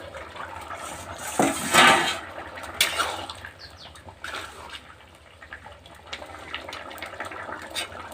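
A cooking pot lid lifts off with a clatter of metal over potatoes boiling for a gourd and prawn curry, then softer clinks and a faint bubbling hiss follow, close by and with no talk.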